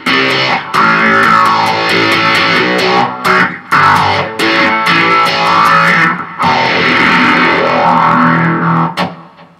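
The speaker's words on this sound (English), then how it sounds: "Let's try it with the octave fuzz." Electric guitar played through an octave fuzz pedal, loud and raspy with sustained distorted chords and riffs, broken by short pauses and sharp pick attacks, with no talking.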